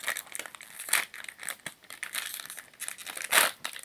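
A crinkly sticker packet is torn open and crumpled by hand at close range, with irregular rustling and crackling and a sharper loud tear near the end, no voices.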